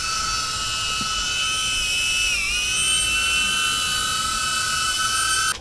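DJI Avata drone flying on HQProp 3-blade propellers, a steady, loud high-pitched whine with a sharp tonal buzz that dips briefly in pitch midway, continuous and close throughout.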